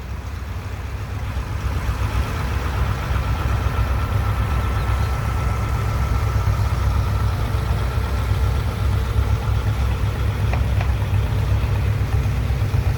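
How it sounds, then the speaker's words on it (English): A 1950 John Deere Model M tractor engine runs steadily at an antique tractor parade, a loud, even low chugging drone that continues unbroken with no voices over it. "To 1950 John Deere Model M, owned by Chad and Cindy Zeller out of Georgetown"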